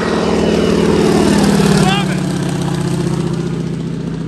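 A crop duster airplane in Southern Iowa passes overhead delivering spray, its propeller engine droning loudly and steadily, swelling then easing slightly as it goes by, with people talking over it.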